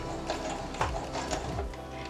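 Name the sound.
sewing machine stitching a cloth face mask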